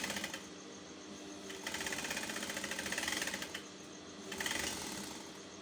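A sewing machine stitches a smock shirred dress in a fast, buzzing mechanical whir, running in bursts with brief pauses and speed changes between them.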